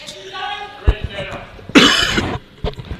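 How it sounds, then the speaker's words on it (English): A harsh, rasping cough bursts out close by, with a few short thumps and faint talk around it. "That's quite a cough"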